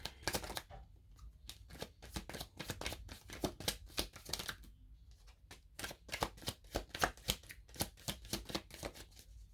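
Tarot cards being shuffled by hand, a close, quiet run of crisp riffling bursts in a steady rhythm with a few short pauses, no voices.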